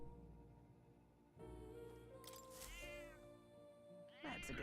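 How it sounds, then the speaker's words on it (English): A cat meows in the video game Metaphor: ReFantazio, with several drawn-out, rising and falling meows over steady game background music, moderately loud and close. "That's a good kitty."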